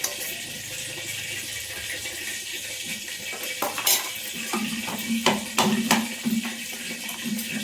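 Mango pieces and green chilies tumble into a pot of dal, giving clattering pot and utensil knocks and light stirring, with a few sharper clinks near the middle and a soft background hiss throughout.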